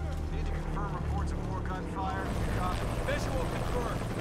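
Helicopter rotor thrum in the video game Shadow of the Tomb Raider, a steady low drone running throughout, mixed with gunfire-like game effects and overlapping voices.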